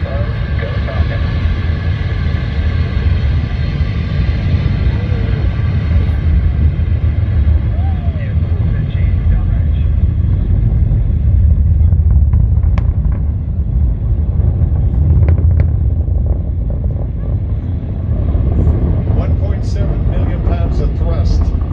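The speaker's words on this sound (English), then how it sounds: "ignition, and liftoff of Falcon 9" Falcon 9 rocket lifting off after ignition, a continuous heavy low roar and rumble that stays loud and steady throughout with faint crackle on top, broad and distant-sounding.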